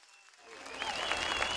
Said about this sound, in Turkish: Bir kendinizi alkışlayın.